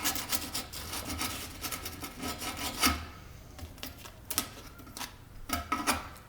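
Scooter deck grip tape being trimmed with a razor blade or Allen wrench: close, irregular rasping scrapes in quick strokes, louder in short bursts, with no talk.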